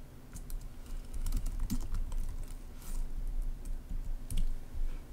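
Rapid clicking of a computer keyboard as a web search is typed, steady irregular keystrokes close by against a low background hum, with no talking.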